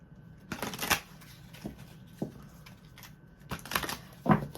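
Tarot cards being shuffled by hand, several quick riffling and slapping bursts separated by short pauses, fairly close and soft, with no talking.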